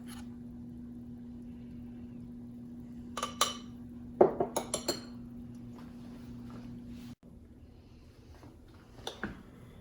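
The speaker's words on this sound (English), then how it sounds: "we're scooping off those milk product solids" A spoon scoops milk solids off the surface of melting butter as ghee is made, giving a few soft metallic taps and scrapes against the pot over a steady low hum, with quiet stretches in between.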